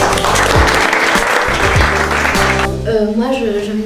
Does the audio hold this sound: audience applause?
yes